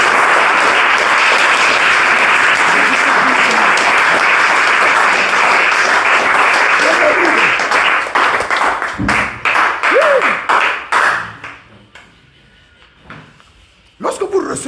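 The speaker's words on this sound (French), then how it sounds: "Applaudissons pour lui." Applause from a church congregation fills most of the stretch, steady and dense, thinning into scattered claps with voices around it before a brief quiet and a final burst.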